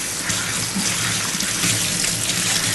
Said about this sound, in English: Give my hands a little bit of a wash.